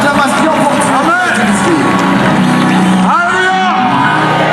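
A church congregation cheering for Minerva church, with loud crowd shouts, whoops and babble sustained close and throughout, rising in swells of voices.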